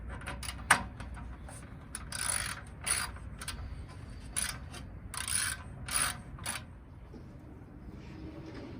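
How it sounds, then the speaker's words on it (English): A ratchet tightens lock nuts on the faceplate of a Nissan S14, with bursts of rapid clicking and metallic mechanism rattles at close range in a garage, with no talking. "right now we're just gonna tighten the faceplate"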